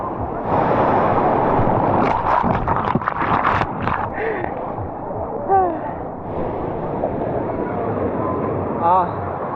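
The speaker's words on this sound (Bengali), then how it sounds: "হেভি বড় বড় সব ঢেউ।" Big, heavy ocean waves break on the beach at Puri: a loud, continuous surf roar with wind buffeting close to the microphone, swelling now and then, while voices call out over it.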